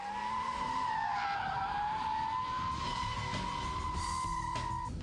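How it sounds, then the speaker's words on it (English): BMW Z3 M Roadster spinning a donut on tarmac, its tires squealing in a sustained, wavering high screech over a roaring engine, steady and continuous throughout. "a standing start, full lock, loads of revs, dump the clutch, and voila, an instant donut."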